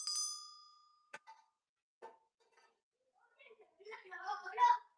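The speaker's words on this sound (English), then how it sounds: "A little reindeer and a little brass, a tree, and a little brass bell." A little brass bell on a reindeer decoration dated 1891 gives one clear ring that fades slowly, followed by a few faint clinks and then a person talking.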